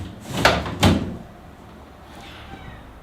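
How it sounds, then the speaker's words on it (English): Two heavy doors swing shut in quick succession, each landing with a solid thud, followed by a quiet room and a final knock at the very end, while bonsai trees are carried indoors. "Close the doors."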